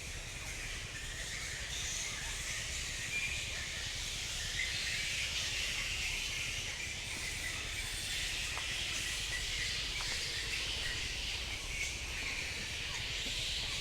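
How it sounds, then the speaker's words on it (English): Dense, continuous high-pitched bird calls fill a mangrove forest in Rayong, Thailand, a constant chattering chorus over a low steady background rumble. "the birds are just going crazy here"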